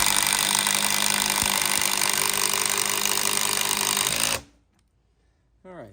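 A Ryobi impact driver sinks a structural screw into a pressure-treated 4x4 with a loud, continuous rapid hammering rattle for about four seconds, then stops abruptly into near silence before a voice begins to speak.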